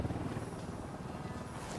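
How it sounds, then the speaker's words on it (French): A helicopter in the video game Ghost Recon Wildlands gives a low, steady rotor rumble with a faint pulsing throb, heard alone at a distance. "Attention, hélicoptère."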